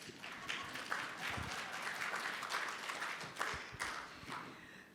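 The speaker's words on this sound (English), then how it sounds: "Clap for that." Audience applause at an education ministry gathering, a steady wash of many hands clapping that holds evenly for the full stretch and carries on without pause or break.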